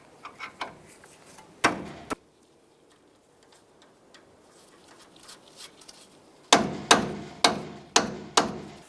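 A hammer strikes a metal outer tie rod end seated in the steering knuckle of a 2004-2012 Chevy Colorado, with a couple of separate clanks and then a fast run of five sharp, ringing blows close to the microphone.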